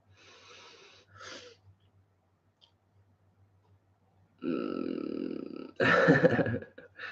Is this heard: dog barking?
no